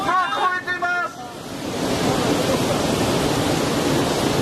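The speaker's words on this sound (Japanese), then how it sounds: "かなり大きな津波が押し寄せております。" Large tsunami waves surge ashore as a broad, steady roar of rushing water that builds after a brief stretch of shouting voices and holds loud and continuous to the end.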